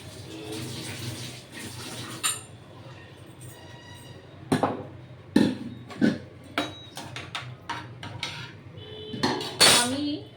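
A pot of egg pasta being covered, a series of sharp metallic clinks and clatters of a lid and cookware against the pot, growing denser in the second half, heard close and alone.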